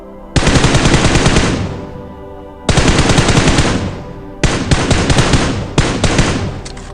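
Automatic gunfire rings out in a squad-rush shooter video game on a military base: three loud, sustained bursts of rapid shots, close and dominant, with short gaps between them.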